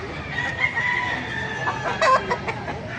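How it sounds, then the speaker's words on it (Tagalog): An ulikba rooster crows loudly and close by amid the background bustle of a busy poultry market, with clucking fowl around it. "May ulikba rin palang manok, ano?"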